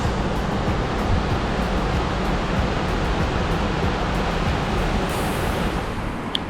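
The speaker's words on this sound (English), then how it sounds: "already discovered our first waterfall," Lewis Falls in Yellowstone roars as a steady, dense wash of falling water, continuous and fairly loud throughout with no voices.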